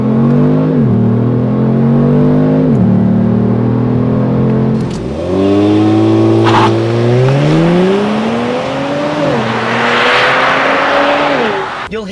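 A Kia Stinger launches hard under launch control, its engine roaring up through several rising sweeps with brief drops at gear changes, loud and sustained.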